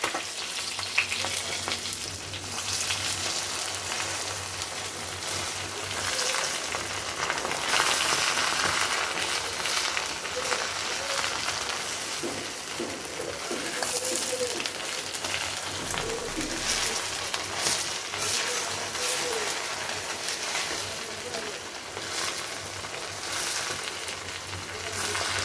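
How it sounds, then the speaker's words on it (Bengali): Koi fish frying in oil in a pan, a steady close sizzle with crackling spikes running for the full length, no voices. "মাছগুলো ভাজা হোক"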